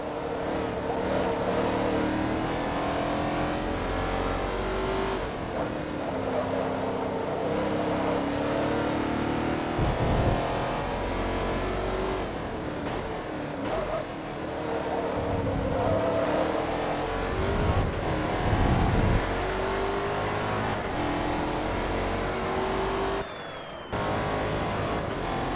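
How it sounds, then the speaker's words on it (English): Race car engine in Forza Motorsport 2 growls with a deep, bassy tone throughout, revving and shifting under continuous load with steady, loud intensity and a brief dip near the end. "I do love engines when they have that really bassy tone to the growl of the engine"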